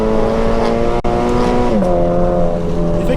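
Toyota GT86 sports car engine pulling hard after a manual downshift, a loud, close, rising tone with a brief interruption early and a pitch step near the middle, heard from inside the cabin.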